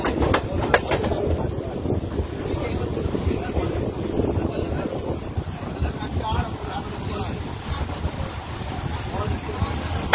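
A local passenger train running from Bandel toward Barddhaman Junction, a continuous rumble of rolling wheels with wind buffeting the microphone and a few sharp knocks, heard from on board.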